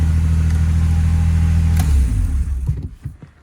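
A BMW E36 M3 engine running with a steady low rumble, close and loud, then cutting out after about two seconds and fading to a few quiet knocks and settling sounds, no speech.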